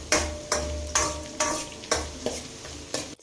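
Onions fry and get stirred in a pan, with a spoon scraping at a steady rhythm about every half second over a constant sizzle, close and fairly loud.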